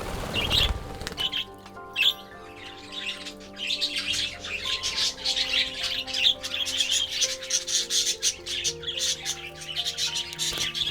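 Budgies in an aviary chirp and tweet in quick, bright bursts over a soft musical backdrop, with occasional wing flutters and a busy, close-up flock sound.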